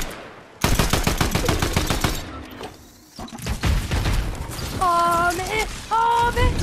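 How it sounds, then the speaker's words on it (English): Gunfire in the video game Fortnite, fast bursts of close automatic shots with short pauses and some mechanical clicks, while players talk over it. "I'm shooting."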